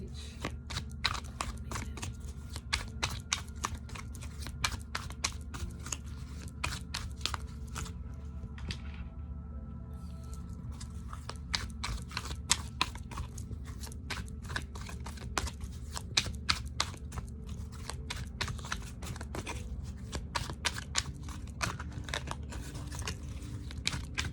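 Rapid, papery riffling and snapping of tarot cards being shuffled repeatedly, close and crisp over a low background hum, with a brief pause midway.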